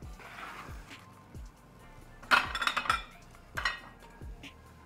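A knife cuts watermelon into cubes on a board, then the pieces are dropped into a bowl, giving a few soft thuds followed by two bright clattering bursts against the dish, close and with no talk.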